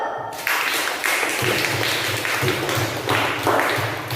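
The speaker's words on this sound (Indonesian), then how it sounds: "Kita beri tepuk tangan dulu" A school class in an Indonesian lesson gives a round of applause, with the clapping coming in repeated bursts that have a loose, steady rhythm and stay at an even, moderate level.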